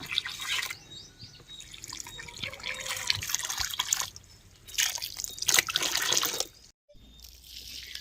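Water is poured onto potted plants, a small amount for each pot, giving soft splashing and trickling into damp soil with drips, in uneven bursts and a brief pause near the end, fairly close with no talk.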